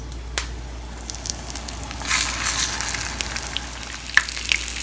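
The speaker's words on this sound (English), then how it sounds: "So we will dip them in egg mixture and then shallow fry them." Egg-dipped keema and potato cutlets shallow fry in oil over medium heat, giving a continuous close sizzle with a few crackles and soft pops, without any speech.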